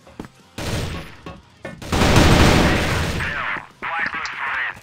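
Loud bursts of gunfire and heavy blasts from a shooter video game in a tournament match, alternating with quieter stretches, while players talk over the action.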